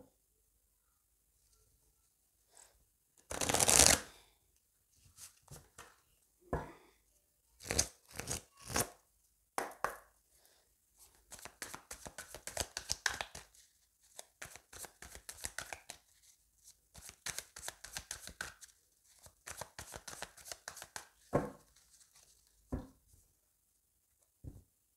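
A deck of tarot cards is cut and handled during a Taurus reading. There are scattered close papery slaps and a loud shuffle burst early on, followed by irregular clusters of riffling and tapping separated by quiet gaps.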